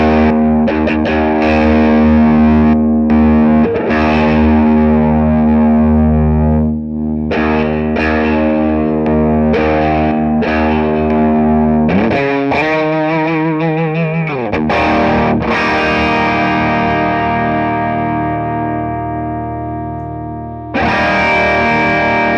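An electric guitar lead tone runs through a Carl Martin Andy Timmons signature compressor pedal, with sustained distorted notes and chords and a wobbling chorus-like passage midway. It is loud and continuous, played alone without talk.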